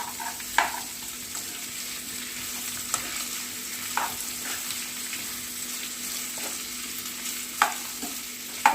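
Onion, capsicum, carrot and tender boneless chicken being lightly sautéed in a pan, with a steady soft sizzle and a few sharp spatula scrapes and taps spread through it.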